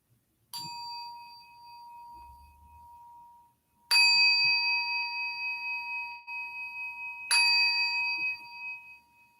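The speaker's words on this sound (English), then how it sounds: "I will begin with 3 sounds of the bell." A meditation bell is struck three times at the start of a Zen guided meditation, each clear tone ringing out and slowly fading into near silence before the next strike.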